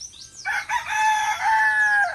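A rooster crows loudly and close by in a rural Bicol yard, one long rising-and-falling call held for most of the two seconds.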